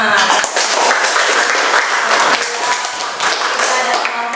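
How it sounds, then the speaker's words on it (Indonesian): A classroom of students clapping together for groups who just presented, a loud, dense and steady applause filling the room from start to finish. "Kita kasih tepuk tangan."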